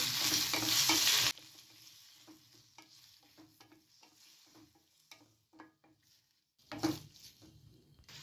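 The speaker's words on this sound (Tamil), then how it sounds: "வெங்காயம் தக்காளி நல்லா வதக்கிக்கலாம்." Loud sizzling of onions and tomatoes frying in a pan for mutton gravy, then a spoon stirring and scraping with rhythmic clicks, sizzle flaring up again near the end.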